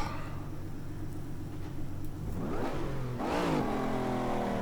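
A car engine revs and accelerates in an Assetto Corsa lap on the Need for Speed 3 Hometown track, with steady mid-pitched engine drone rising through gear changes and climbing louder toward the end, no talking.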